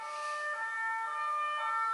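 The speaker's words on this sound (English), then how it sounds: "just waiting for that siren to go." Emergency vehicle siren holds a steady tonal wail at moderate level, sounding somewhat distant and muffled, continuous throughout with no speech.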